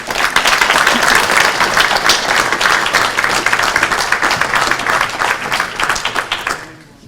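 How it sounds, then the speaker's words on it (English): Loud, sustained round of applause from an audience welcoming a parliamentary candidate to the stage, dense clapping throughout that tapers off at the end. "give him a round of applause, our new candidate for Sefton"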